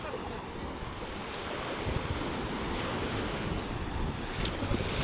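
Waves wash steadily onto a beach at the seashore, a broad continuous roar with gusting wind buffeting the microphone, fairly loud and unbroken throughout.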